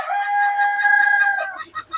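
A desi rooster lets out a loud, close crow, followed by a few short clucks on a free-range poultry farm set in a fruit orchard.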